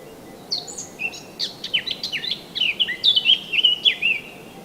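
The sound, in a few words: birds singing at spring dawn in mountain forest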